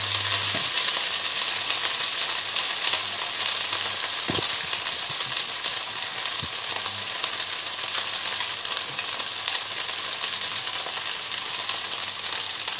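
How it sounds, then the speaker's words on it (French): Steady, loud sizzling of spätzle frying in a pan, a continuous hiss throughout with a couple of faint clinks. "Et là on peut placer les spätzle dans la casserole."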